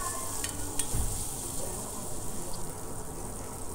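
Onions frying in a pan for capsicum masala rice make a steady, soft sizzle, with a couple of brief clinks early on and a faint stirring scrape, and no talking.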